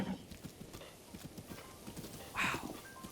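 Horses clip-clopping across a field in the video game The Legend of Zelda: Breath of the Wild, a steady run of hoofbeats with a brief louder burst near the end, under faint background sound.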